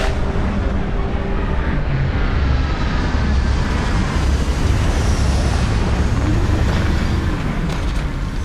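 Loud, continuous roar of an aircraft coming in to land, a dense steady rumble with broadband engine and wind noise that holds evenly throughout with no voices.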